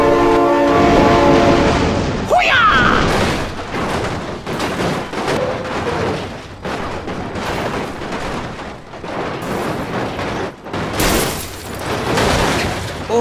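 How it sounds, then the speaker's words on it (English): A loud train horn blares from nearby, sustained and harsh, over the rumble and clatter of a passing train, with no talking. "Oh my god, train!"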